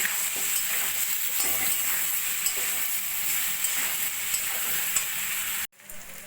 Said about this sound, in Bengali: জিরের গুঁড়ো দিয়ে দেবো সামান্য আদা আর কাঁচা লঙ্কা বাটা ভালো করে মশলাটা কষিয়ে নেব